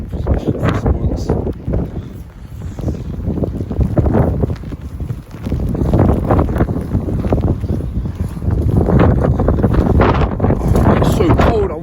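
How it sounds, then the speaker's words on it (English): Strong wind blowing outdoors on a cold day, buffeting the microphone in loud continuous rumbling gusts throughout. "Look how windy it is."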